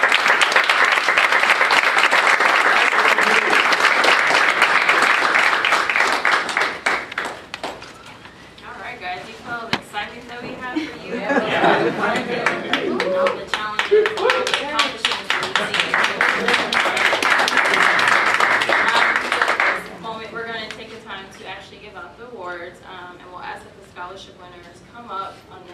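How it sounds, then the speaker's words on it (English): Audience at a scholarship reception applauds 14 scholarship recipients, with sustained loud clapping from a crowd, a quieter stretch with voices, then a second strong wave of applause before it dies down into talk. "So could we give us a round of applause?"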